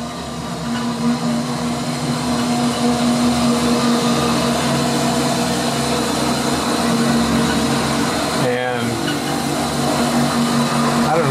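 A winch hoists a cable through a 2-to-1 pulley setup, giving a steady mechanical whir with a constant hum that runs throughout, broken by a brief rattling disturbance near the end.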